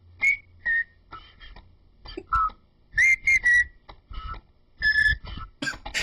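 Several people whistle the Happy Birthday tune in a series of clear, bright phrases with short gaps between them, the tone wavering slightly and at close range.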